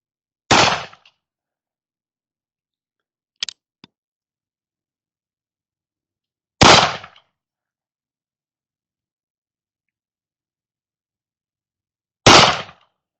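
Three sharp, loud shots from a Colt Pocket Police pistol fired at a 10-yard target, spaced several seconds apart with quick decays, plus a couple of faint clicks in between.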